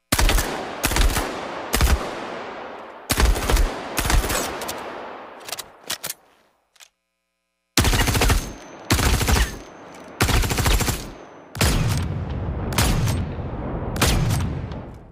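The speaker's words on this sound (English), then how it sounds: "let's listen to some of our weapon sounds in action" Weapon gunfire from the space game Star Citizen rings out in loud, sharp bursts of rapid automatic fire with echoing tails, separated by short pauses and one near-silent gap.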